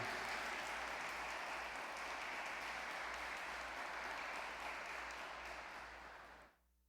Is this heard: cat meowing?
no